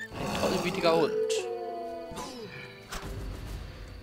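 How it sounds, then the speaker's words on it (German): A dog howls in The Witcher 1, a drawn-out wavering cry rising and falling over game sounds, with a sharp crash and other in-game noises around it. "Hund."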